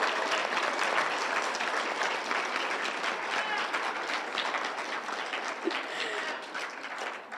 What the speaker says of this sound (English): Can we get one more round of applause for all of our contributors?